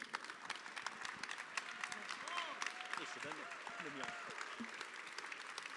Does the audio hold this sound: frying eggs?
no